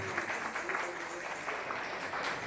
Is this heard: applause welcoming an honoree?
yes